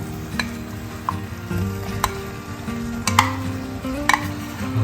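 Paneer dry fry being stirred into a thickening chilli sauce in a pan, with a steady close sizzle, spoon scrapes and light clinks at intervals against a faint background hum.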